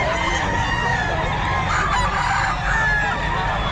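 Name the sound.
bullstag gamecock rooster crowing at Bocaue pet market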